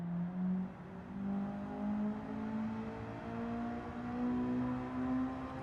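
Car engine in Gran Turismo 7 climbing through the revs past its VTEC crossover, a steady rising engine whine heard at moderate level with no talking over it.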